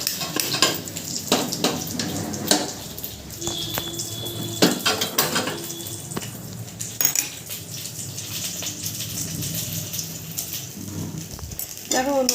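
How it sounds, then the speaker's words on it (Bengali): Rice in ghee is stirred in a cooking pot, with repeated scraping and clinking of a spoon against metal and a faint sizzle. The knocks come in irregular bursts, with some kitchen clatter and water noise around them. "দেখো বন্ধুরা, আমার চালটা একটু নাড়াচাড়া করে নেবো।"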